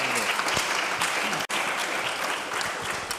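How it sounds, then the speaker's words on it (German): Audience applause after a lecture at a German adult-education event, a dense, steady clapping from a full room lasting the whole stretch with only a split-second break midway. "das ist jetzt mal ein Applaus wert"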